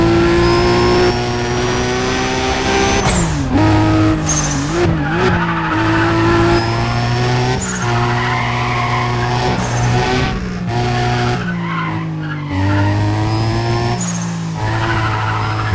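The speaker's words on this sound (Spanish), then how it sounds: "Uy, va muy bien este auto." A race car in the Need for Speed ProStreet video game roars loudly through shifting engine revs and gear changes, with tire squeals and skids cutting in over the continuous engine noise.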